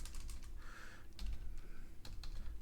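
A computer keyboard is typed on in quick, light bursts of clicking keystrokes, close and fairly quiet, with short pauses between groups of keys.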